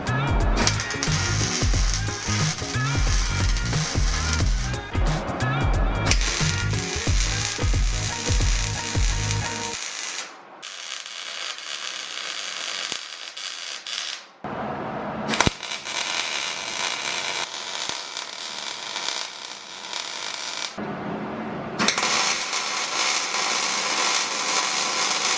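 A welder puts tack welds on an exhaust hanger of a 1985 Toyota 4Runner. Bursts of crackling, hissing arc sound are broken by sudden short gaps, with a clattering mechanical stretch at the start.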